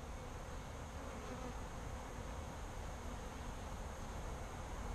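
Saskatraz honey bees in a hive two weeks after a package install, a dense, even buzzing hum that holds steady throughout, soft and close with no talking.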